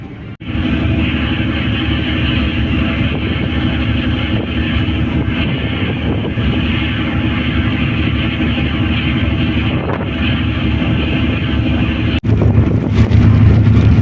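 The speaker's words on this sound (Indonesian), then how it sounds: "Angin." Strong wind buffeting the microphone on a ferry deck on an Indonesian sea crossing, a loud continuous roar with an engine rumble beneath, steady throughout and briefly intensifying near the end, with no talk.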